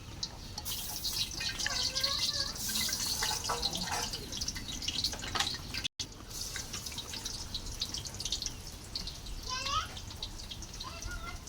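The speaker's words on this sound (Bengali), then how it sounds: "বৃষ্টি আসতেছে" Rain falls steadily outdoors near a cooking spot, with dense patter and drips running throughout, one brief dropout midway, and faint voices in the background.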